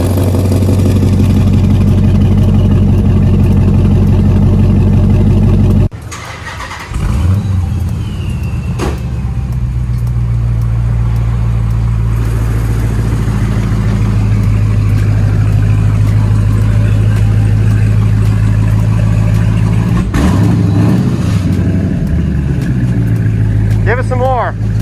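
A Dodge SRT Challenger fitted with exhaust cutouts idles with a loud, deep rumble, shuts off briefly, then restarts and settles into a steady throaty idle with a few blips, while people talk nearby.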